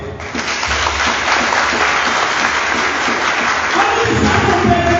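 Sustained applause from a church congregation fills the space at a steady, loud level, with a few voices mixed faintly into the clapping.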